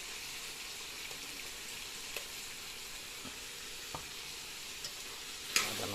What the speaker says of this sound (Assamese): এতিয়া মই আদা নহৰুটো দিম, মোটামুটি 10 মিনিট ফ্ৰাই কৰিলোঁ।